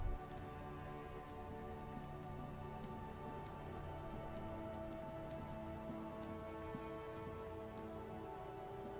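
Continuous rainfall in the video game Disco Elysium, a close, unbroken hiss of raindrops on surfaces that stays level for the whole stretch, with no talking.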